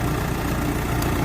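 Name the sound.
heavy machine engine idling while warming up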